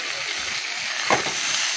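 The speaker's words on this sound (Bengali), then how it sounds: "তো চলো এর মধ্যে বাঁধাকপিটা আবার ঢেলে দিই।" Cabbage tipped into a hot pan sets off a loud, steady frying sizzle, with a brief splashy burst as the leaves land partway through.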